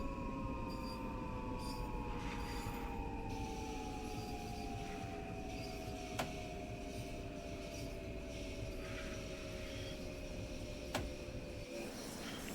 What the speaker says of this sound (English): Oh, another fast train going through that.